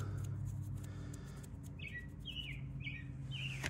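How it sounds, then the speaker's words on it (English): Outdoors, a bird gives a series of short, bright chirps, four or five spaced calls in the second half, heard over a steady low motor-like hum and background noise, with no talking. "That bird can really shut up now."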